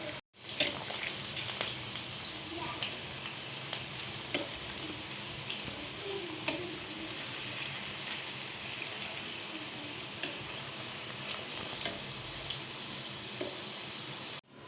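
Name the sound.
potatoes frying in oil in a pan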